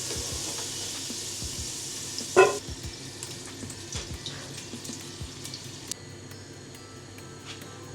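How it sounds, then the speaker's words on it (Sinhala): Potatoes roasting in a pan, with a steady soft sizzle of oil, a clatter of stirring near the start and scattered scraping sounds afterward, no talk. "දැන් මං හදන්නේ මගේ potato ටික roast කරගන්න"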